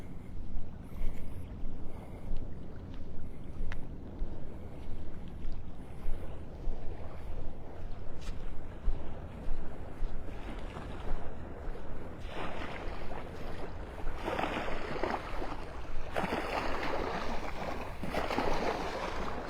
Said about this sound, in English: waves from a boat wake lapping up on the shore here, that means they were speeding through the pass